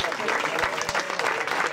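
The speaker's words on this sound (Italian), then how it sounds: "applauso." An audience applauds at a team's season presentation for the 2016/2017 Serie A volleyball season of Axed Group Latina, giving a brief, dense burst of clapping that stays loud and even for a moment, with a crowd murmur underneath.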